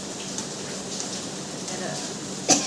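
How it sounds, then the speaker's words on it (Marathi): Steady rain falls outside, a soft even hiss throughout with a brief louder patter near the end. "आणि बाहेर पाऊस पडतोय बघा"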